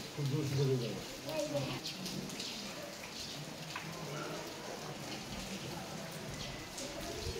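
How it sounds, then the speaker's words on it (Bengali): Rain falls steadily outdoors through pine trees, a soft continuous patter with scattered drops, and a brief low voice is audible near the start. "ঝাউ গাছগুলোর ফাঁক দিয়ে বেশ বৃষ্টি গড়িয়ে পড়ছে"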